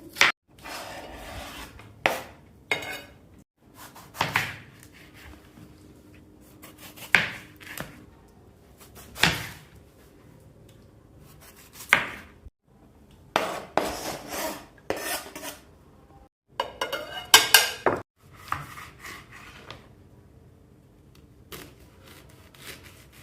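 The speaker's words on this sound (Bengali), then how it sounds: "সকল কিছু খুবই সরু সরু করে কেটে নিতে হবে।" A knife slices thin strips of ingredients for a spicy chanachur mix with tamarind, giving irregular crisp scraping cuts in scattered bursts, close and fairly quiet between strokes.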